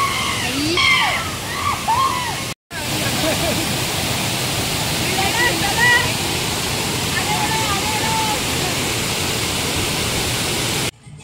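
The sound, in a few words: waterfall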